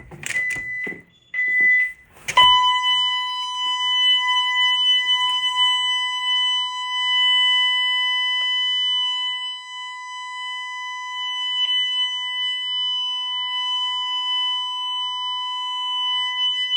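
A home security system alarm set off by opening a bedroom window: a few short beeps and tones, then a loud, continuous electronic tone that holds steady for over fourteen seconds.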